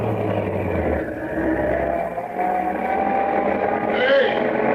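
Radio-drama effect of a truck rolling into a freight yard: a low engine rumble and whir runs under men's dialogue, fairly faint and steady.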